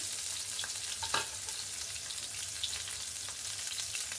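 Onion, garlic and ginger frying in hot oil for chicken bhapa, a steady soft hiss and crackle with occasional stirring scrapes, fairly quiet and close, no voices.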